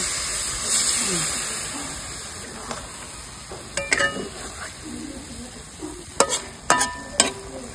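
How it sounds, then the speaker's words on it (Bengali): Fish chachchari curry hisses and sizzles in a pan as water is added, a steady low frying hiss broken by scattered metal utensil clinks and scraping. "এবার আমি একটু হালকা জল দিয়ে ঢাকা দেব"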